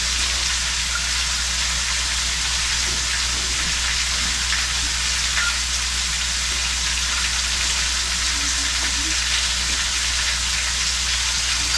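Mushrooms fry in a pan for an elk steak dish, giving a dense, steady sizzle that stays loud and even from start to finish with no talking.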